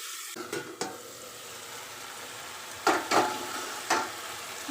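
Okra and shrimp chorchori sizzling and frying in a pan after a little water is poured in, a steady close hiss broken by several sharp scraping stirs of a utensil against the pan.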